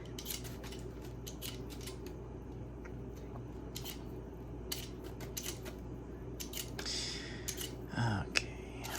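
Small potatoes peeled by hand with a vegetable peeler while cooking a cheeseburger meal kit, giving a steady run of quiet, rapid scraping strokes close by, with a slightly louder scrape near the end.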